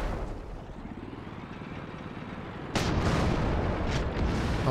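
Tank cannon fire in the World of Tanks video game, a sudden heavy boom cutting over a low engine rumble, followed by a second sharper blast about a second later.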